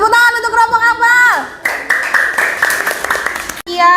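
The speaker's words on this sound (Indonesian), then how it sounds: "Tepuk tangan untuk kelompok Akmal." A classroom of students clapping for a group after a calculator presentation, brief bursts of applause mixed with children's voices and a teacher talking over it.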